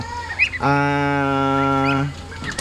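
One loud, drawn-out call from a backyard chicken rings out close by, held steady for over a second between soft rustling farmyard sounds.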